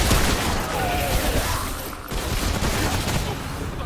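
Video game gunfire in co-op Remnant: From the Ashes, a continuous rapid barrage of shots and impacts, loud and close with a brief dip midway, with no voices.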